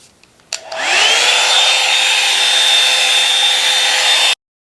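Revlon One Step Volumizer blow dryer brush switches on with a click and runs as a loud, steady, high-pitched whirring hum while drying hair, then cuts off abruptly to silence.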